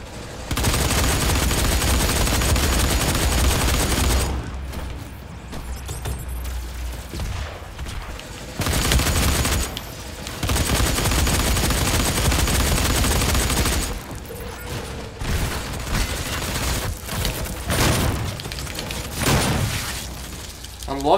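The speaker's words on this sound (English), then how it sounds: "I'm loving this shotgun and this game so far" Shotgun blasts and rapid gunfire in Doom 4 Warpath multiplayer, dense bursts of loud shots broken by short quieter gaps, with brief voices at times.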